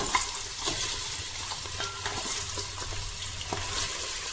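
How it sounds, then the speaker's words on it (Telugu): Washed mutton pieces hit a hot pot for mutton biryani and sizzle steadily while being stirred, with scraping and clinks of the spoon against the pot close up throughout. "ముందుగా వాష్ చేసి పెట్టుకున్న ఈ మటన్ కూడా వేసేసుకోవాలండి"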